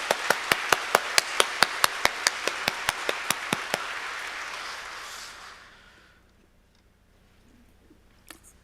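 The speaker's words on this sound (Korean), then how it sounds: "우리 감사와 영광의 박수 올려드리겠습니다" A church congregation at an Easter Sunday service claps in a steady, rhythmic beat about fifteen times, then breaks into broad applause that fades to near silence.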